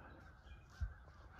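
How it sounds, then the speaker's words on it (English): Birds calling at sunrise outdoors, faint and distant, with a single harsher crow-like call rising briefly over a soft background hum. "Birds chirping,"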